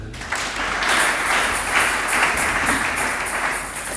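Church congregation applauding, steady rhythmic clapping from many hands filling a large room, loud and continuous without voices.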